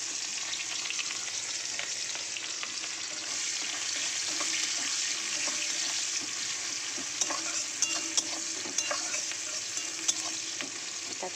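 Onion frying in hot oil for an eggplant dish, a steady, close sizzle with soft scraping and stirring clicks throughout, no voices.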